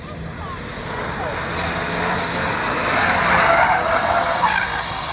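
A car spins out at Summit Point raceway, its tires skidding in a long, continuous roar of rubber scraping pavement that builds louder toward the middle and holds steady, fairly close, without pause.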